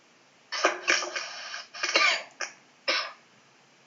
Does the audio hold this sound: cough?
yes